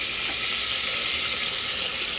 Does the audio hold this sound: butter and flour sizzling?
yes